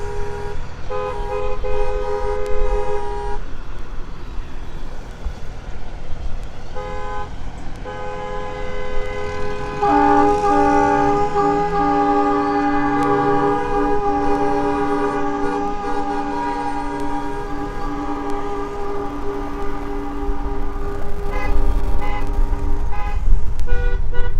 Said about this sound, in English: Sounds like we need to get a train horn for them.